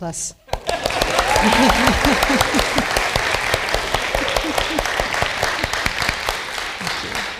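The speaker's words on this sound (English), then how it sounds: "Okay, clap if you think that was A+." An audience bursts into loud, sustained applause that fills the room, with a voice briefly audible at the start.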